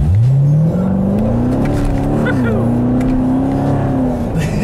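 A 2016 Chevrolet Corvette Stingray with an 8-speed automatic accelerates hard on a test drive, its engine note climbing steadily in a loud, sustained rising drone that levels off briefly and continues.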